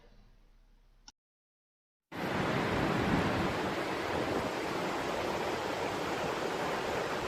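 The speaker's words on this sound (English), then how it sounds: "We're standing out in the pouring rain doing this." Heavy pouring rain outdoors at night near a bridge, a steady loud broadband wash that starts abruptly after a short silence and continues unbroken.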